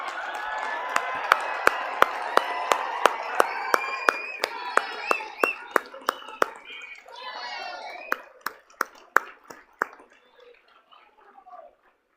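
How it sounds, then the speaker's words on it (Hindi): Audience at a summit valedictory session gives a standing ovation: a steady wash of applause from a large crowd under a loud, amplified speaker's voice, with sharp regular thumps cutting through and the clapping gradually thinning out. "एक बार खड़े होकर प्रधानमंत्री जी को जोरदार तालियां बजाकर,"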